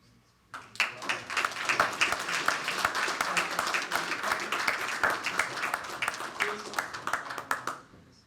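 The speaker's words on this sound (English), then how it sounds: "All right, round of applause" Applause breaks out at a committee meeting after a quiet start, with dense clapping from a room of people sustained for several seconds before tapering off at the end.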